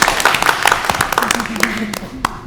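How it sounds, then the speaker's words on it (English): A short scatter of claps from a small group, uneven and fairly close, while people keep talking over it. "You guys want a round of applause too?"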